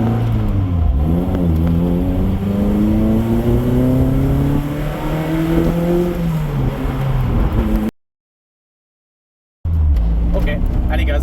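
A Lotus Elise sports car engine revs up and climbs through rising pitch as it accelerates, loud and close from inside the car, then cuts to a brief silence before resuming.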